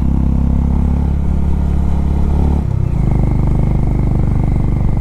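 Motorcycle engine on a mountain road climbing uphill toward Nathula Pass in Sikkim, a loud steady close drone that drops out briefly as the rider shifts from third to second gear, then resumes at a changed pitch.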